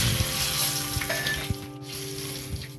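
Whole spices sizzle steadily in hot oil: cinnamon, cloves, green and small cardamom, dried red chilli, bay leaf, mace and peppercorns. The frying crackles close with occasional light clinks and stirring.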